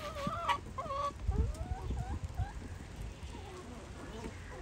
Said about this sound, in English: Just fed the chickens, so they're enjoying their breakfast.